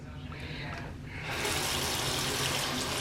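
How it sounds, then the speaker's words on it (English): Water gushing and splashing as a wet beauty blender makeup sponge is squeezed out over a sink, a steady close wash of liquid that grows louder partway through. "I'm going to squeeze out some of the water"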